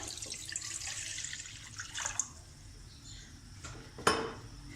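Water is poured into a kadai sitting on a gas stove in a home kitchen, making a quiet splashing trickle that comes in brief surges, along with a soft clink of metal near the end.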